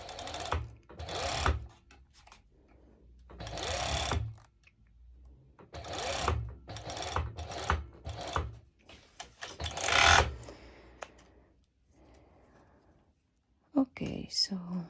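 Sewing machine top stitching a swim skort with built-in bottoms, running in several bursts of steady mechanical whirring separated by short pauses, close and moderately loud.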